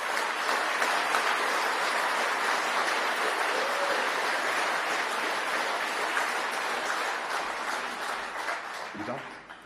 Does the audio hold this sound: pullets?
no